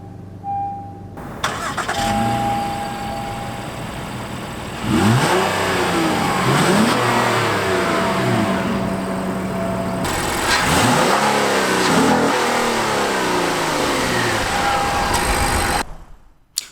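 A 2017 Honda Ridgeline pickup's 3.5-liter naturally aspirated V6 starts up and revs loudly several times, rising and falling in sustained sweeps before shutting off, heard up close with no talking.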